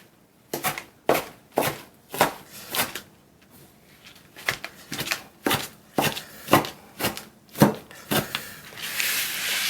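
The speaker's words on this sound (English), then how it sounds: "Now we're going to mince this up a little bit." Knife mincing food on a plastic cutting board, a run of sharp, evenly spaced chops roughly twice a second, close and loud, with a brief pause midway and a scraping rustle at the end.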